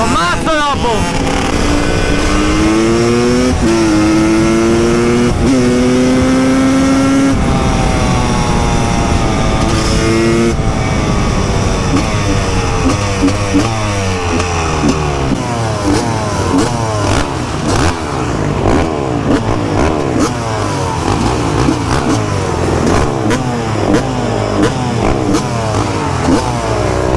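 A TM SMR 300 motorcycle at a motorcycle rally revs loudly and close, its engine pitch repeatedly sweeping up and down through sustained blips, with wind buffeting the microphone throughout.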